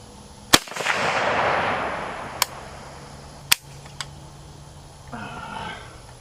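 Several rifle shots from a Romanian RH10 fired outdoors at distance targets, sharp loud cracks spaced a second or more apart, one followed by a long rolling echo, then quieter shuffling.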